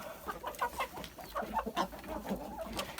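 Bielefelder chickens clucking in a coop, a scattered series of soft, close clucks and murmurs at low level with no talk.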